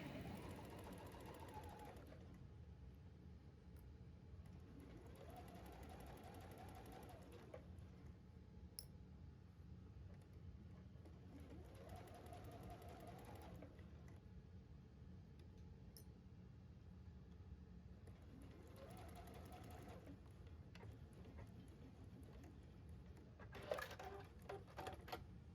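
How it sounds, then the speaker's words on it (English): Sewing machine running a straight stitch across a gusset seam on a hi-cut panty, four steady whirring runs of several seconds each separated by quiet pauses, faint and close, ending with a few light clicks. "we're just going to use a straight stitch to go across this gusset seam"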